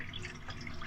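A newly installed filtered drinking water tap runs in a steady, faint stream, giving a soft continuous splashing and trickling into the sink with no voices.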